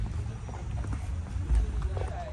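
Horse hooves clip-clop during a horseback ride in Ocho Rios, Jamaica, a steady run of soft, low thuds with one heavier strike midway, with voices and background noise over them.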